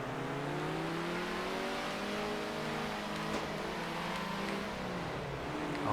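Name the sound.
race car engine driving in video game Circuit Superstars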